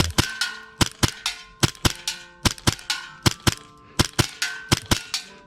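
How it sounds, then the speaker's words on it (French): A custom Hi-Capa airsoft pistol fires in quick pairs of sharp, loud, clanging shots at 20 cm targets 15 metres away, with a short pause between each double and no talking. "là à 15 mètres, je fais de la doublette sur des cibles de 20 cm"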